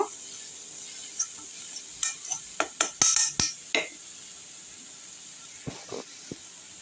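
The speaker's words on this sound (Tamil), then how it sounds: "நாட்டு சக்கரை இதிலே நல்லா கிண்டிப்போம்" A utensil stirs a mixture of country sugar and parboiled rice in a pan for sweet kozhukattai, giving a cluster of sharp metal clinks and scrapes, then a few more, over a faint hiss.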